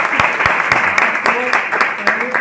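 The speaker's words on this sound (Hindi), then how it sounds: "वेरी गुड, तालियां बजा दो" Applause from a seminar audience in a group meeting hall: dense, continuous clapping with sharp hand claps standing out throughout, loud and close.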